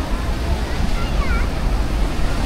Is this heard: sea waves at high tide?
yes